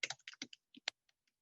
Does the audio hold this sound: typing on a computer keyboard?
yes